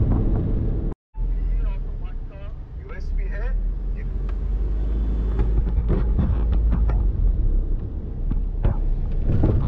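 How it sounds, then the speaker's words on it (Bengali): A car travels the road from Kolkata to Puri through Odisha, its steady engine and road rumble running throughout under near talk, with a brief dropout about a second in. "এখন আমরা যাচ্ছি গাড়ি করে"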